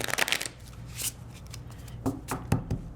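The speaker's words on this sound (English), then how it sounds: "Lots of shuffling. Get them really mixed up in there." A deck of playing cards for a Pandemic Legacy board game is shuffled by hand at close range, giving repeated crisp riffling bursts and soft taps.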